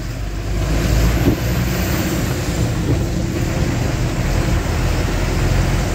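A car pulls away behind an Eicher truck in congested traffic, making a continuous, fairly loud engine and road rumble that holds steady throughout with no voices.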